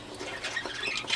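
Pet birds kept for breeding give scratchy, high squawks in short bursts. The calls come in a steady, moderately loud stream at close range, without talk.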